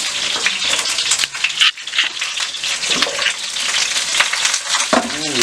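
Onions fry in a pan with a loud, steady, close sizzle that runs throughout, with brief dips and clatters as a chicken and hot chili dish is stirred.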